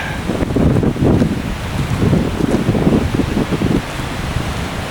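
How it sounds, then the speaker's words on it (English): Strong gusts of wind buffet the microphone in a low, rumbling roar outdoors in woods, easing slightly toward the end. "As you can hear, it's a fairly windy day."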